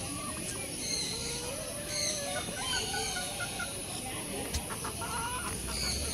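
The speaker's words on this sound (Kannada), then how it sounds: "ಇದು ಟರ್ಕಿ ಕೋಳಿ ಹೆಸರು." A turkey at a nature camp near Coorg gives a faint, warbling gobble among soft clucking fowl, set against steady outdoor background noise and distant voices.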